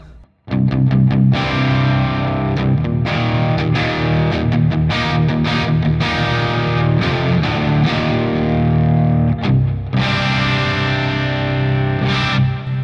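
Electric guitar on the bridge pickup picked hard through a crunchy overdriven Archetype: Rabea amp plugin, bright and biting, playing busy riffs with strummed chords.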